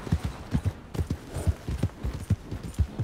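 A horse walks in Red Dead Redemption 2, its hooves clip-clopping in a steady, even rhythm that repeats continuously and sounds fairly close.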